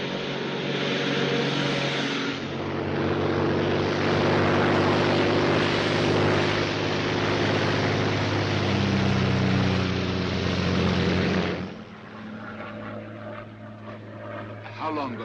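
A Royal Air Force plane in flight, a steady loud engine drone from inside the aircraft that drops noticeably near the end as voices talk over it.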